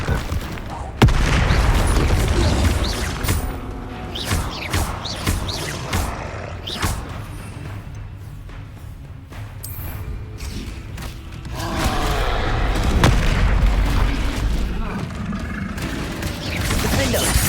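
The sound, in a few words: Bombarda spell explosions in a Harry Potter video game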